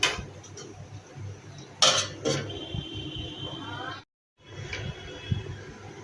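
A metal lid goes onto a pot of village-style raw fish curry after the gas is switched off: sharp clinks and a clattering knock stand out above soft kitchen handling noise, close by.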